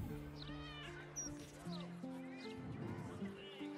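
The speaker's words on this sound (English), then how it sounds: "I'm gonna try and pet this cat." A cat in the video game Baldur's Gate 3 gives a few short, rising meows at moderate distance, layered over steady game music and faint voice sounds.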